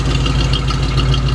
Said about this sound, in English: Motor's nice and quiet.